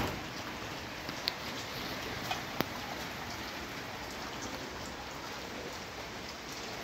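Steady rain pours down in a heavy downpour, with a dense, even wash of drops and a few sharp drips or taps standing out now and then; no voices.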